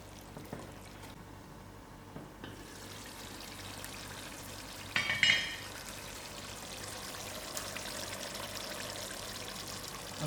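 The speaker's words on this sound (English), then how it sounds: "I'm going to add in a cup of boiled water to it" Boiled water is poured into a simmering pot of venison curry: a quiet cooking background with a short, brighter splash of pouring liquid midway, then low bubbling.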